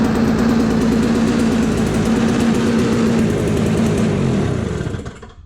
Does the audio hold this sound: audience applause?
no